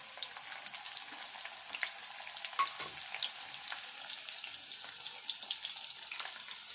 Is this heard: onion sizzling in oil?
yes